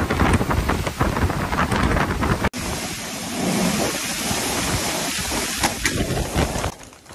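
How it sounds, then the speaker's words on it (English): Heavy rain from a powerful storm in Tucson, Arizona pours down as a dense, constant roar, with a brief cut partway through and the hiss easing slightly near the end. "A powerful storm hit Tucson,"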